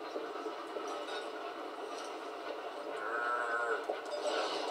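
A cow moos in the Toy Story 3 video game, a drawn-out lowing call sounding under soft game background noise.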